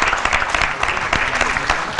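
An audience in a TV sports studio bursts into dense, continuous clapping that stays loud and even throughout, close and without a pause.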